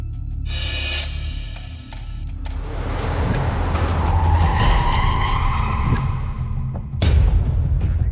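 Cars racing at high speed on a village road, tires skidding and squealing loudly with engine roar building to a sustained screech, then a fresh burst of skidding near the end.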